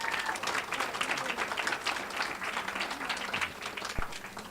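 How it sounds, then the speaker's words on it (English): Steady audience applause for a high school chamber strings ensemble at a school literacy night, a dense, fairly distant wash of many hands clapping continuously throughout, with one sharp knock near the end. "can I get a round of applause for the Dartmouth High School Chamber Strings?"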